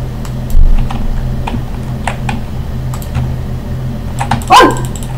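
A dog barks repeatedly indoors, sharp separate barks spread across the stretch with one louder bark near the end, over a steady low hum.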